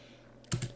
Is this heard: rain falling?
no